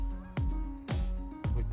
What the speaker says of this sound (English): Geese in behind us